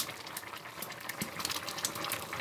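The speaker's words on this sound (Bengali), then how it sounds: "সিমের তরকারিটি কিন্তু আমার একদম সুন্দরভাবে বলক চলে এসেছে" A pot of bean and koi fish curry at a rolling boil, steady bubbling and popping with wet gurgles, fairly quiet and close, with no voices.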